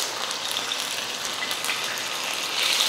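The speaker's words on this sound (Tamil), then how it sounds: "எண்ணெய் நல்லா காஞ்சதுமே மீன் எடுத்து வச்சிடலாம்." Fish fries in hot oil on a dosa pan, a steady, even hiss of sizzling spatter at close range with no break.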